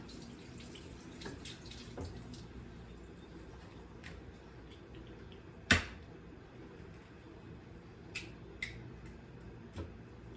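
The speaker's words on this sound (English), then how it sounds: "Rinse this egg off." A single egg is rinsed under a running kitchen tap: a quiet, steady wash of water with a few faint knocks and one sharper clack against the sink.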